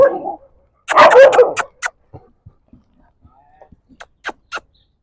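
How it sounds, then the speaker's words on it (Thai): A dog on temple grounds in Thailand lets out a loud, close burst of barks, followed by a few short, softer yips and whimpers after a brief pause. "เขาจะเห่าผมอีกแล้วเนี่ย"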